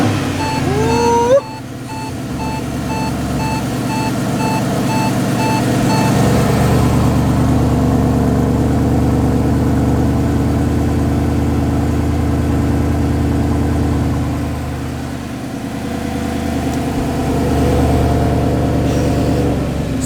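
Mercedes SLS with its naturally aspirated 6.2-liter engine cold starting: a crank and catch that settles into a loud, steady, high idle, which slowly eases down over about twenty seconds.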